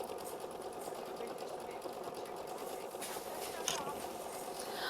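An embroidery machine sews a heavy step stitch after its run and underlay stitches, a steady rapid mechanical chatter running evenly throughout with a brief higher clatter near the end.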